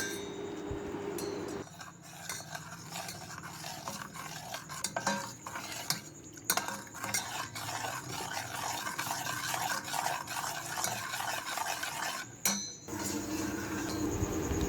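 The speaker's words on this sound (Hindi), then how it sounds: "और इसे अच्छे से मिक्स करेंगे।" A spoon stirs custard powder mixed into milk in a bowl, steady rhythmic clinking and scraping against the sides with a few louder knocks, close and without speech.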